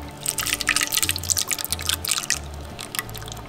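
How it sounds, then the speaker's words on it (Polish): Chilled 30% cream, 250 g, poured into a Monsieur Cuisine Smart mixing bowl, a soft liquid trickle and drip with faint low thumps, close and fairly quiet. "do pojemnika miksującego wlewamy 250 g schłodzonej śmietanki 30"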